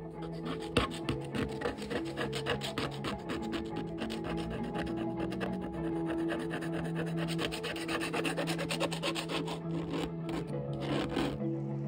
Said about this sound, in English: So I'll use one of my palette knives to initially scrape things off.